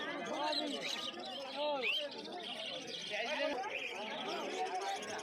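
Pet cockatiels and finches in cages at a bird market chirp and tweet in quick overlapping calls, moderately close, mixed with a background babble of people talking.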